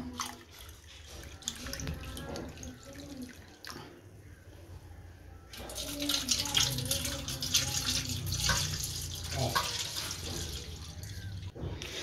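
Water is poured into a cooking pot while preparing ghee rice, a steady splashing stream that grows fuller and louder partway through, with no talking.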